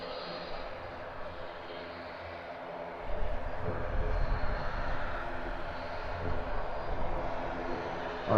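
Aer Lingus ATR turboprop at Edinburgh Airport, a low propeller and engine drone that grows louder partway through and stays steady, fairly distant, with faint background voices.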